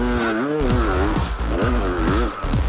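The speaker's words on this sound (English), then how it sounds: "I'm going to set off in 3rd gear now so I get as much grip as I can and then just pin it through the sand" A dirt bike sets off in third gear through sand at the Sea To Sky race, its engine revving hard and rising in pitch, loud and close, alongside other bikes, with no voices.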